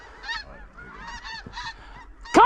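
Snow geese honk during a waterfowl hunt, a scattered series of nasal calls at middle distance, ending in a loud close burst of honking.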